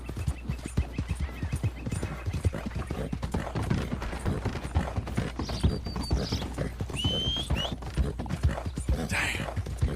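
Horse hooves clip-clop steadily in a Red Dead Redemption 2 game scene, a continuous rhythmic trot under a voice, with a neigh and background ambience around it.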